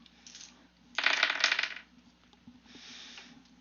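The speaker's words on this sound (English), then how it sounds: "Let me roll more dice." Dice rolling during a tabletop session of Icewind Dale: a quick rattling clatter bursts up loud for under a second, then a softer, shorter second tumble follows, with no talk over it.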